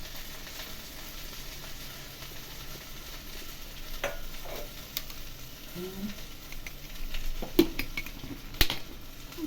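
Okra masala frying in oil while being stirred, a continuous quiet sizzle broken by scattered clinks and scrapes of a spoon against the pan.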